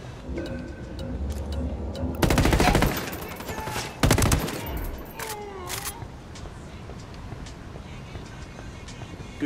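Gunfire in Ghost Recon Wildlands, two loud bursts of rapid automatic shots separated by a short pause, followed by scattered game sounds and faint voices.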